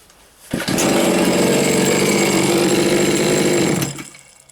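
A Chinese petrol chainsaw of the 4500/5200 class, just repaired after failing to start, fires up abruptly and runs at a loud, steady high-revving roar for about three seconds before cutting off.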